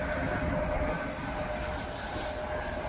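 A steady rumble of a Swedish 1980s long-distance passenger train pulled by a locomotive, heard from inside a carriage, with a continuous low drone and no talking.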